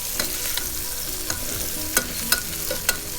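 Potatoes and onion fry in a hot pan with a steady broadband sizzle, punctuated by several sharp scrapes and clicks of a spoon stirring against the pan.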